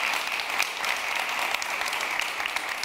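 A studio audience on a Turkish reality TV panorama show applauds steadily, a dense, even clapping that fills the space without a break and with no voices over it.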